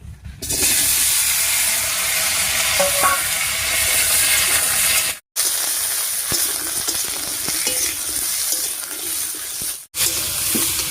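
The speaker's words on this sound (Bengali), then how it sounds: "ফোড়নটা ভাজা হয়ে গেছে, এবারে কেটে রাখা লাউটা দিয়ে দিচ্ছি" Bottle gourd sizzles and fries steadily in a pan over mustard tempering, with faint scraping from stirring and two brief cuts in the sound.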